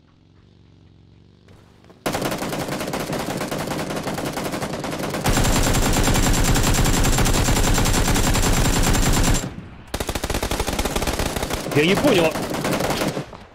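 Automatic weapon fire in PUBG rattles in long, loud, close bursts of rapid shots, with a brief pause between volleys, while someone speaks briefly over the shooting.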